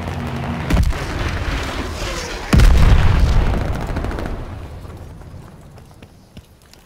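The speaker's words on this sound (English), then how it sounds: "Bombing run on the way." Bombing run explosions in the Call of Duty: Vanguard video game: a sharp boom near the start, then a second louder blast whose heavy rumble swells and slowly fades over several seconds.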